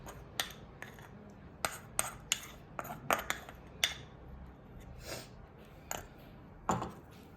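Spoon clinking and scraping through a thick mixed-lentil appe batter with salt and a ginger-garlic-chili-coriander paste, in a rhythm of sharp clinks against a bowl, close and moderately loud, with no talking.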